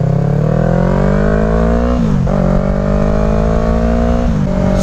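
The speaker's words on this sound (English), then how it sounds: "rolling with my new M4 exhaust system, slip-on exhaust system on the Yamaha R3" Yamaha R3 motorcycle fitted with an M4 slip-on exhaust revs loudly and steadily up close, its pitch climbing in two sustained pulls with brief dips between, no talk over it.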